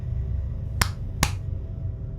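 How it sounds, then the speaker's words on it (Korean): Two sharp hand claps about half a second apart, close and crisp over a quiet low background hum, used as a sound effect in a Korean horror audio drama. "저는 비구스님의 근처로 가서 손뼉을 2번 쳤습니다."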